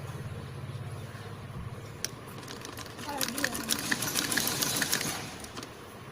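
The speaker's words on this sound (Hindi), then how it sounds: "जैसे हमने इसमें आलपिन लगाई है वैसे ही अब हम इसकी स्टिचिंग कर देते हैं।" A sewing machine stitches the front plates of a long party-wear kids' dress, starting with a low steady hum and then a louder run of quick mechanical whirring and clicking midway, close by.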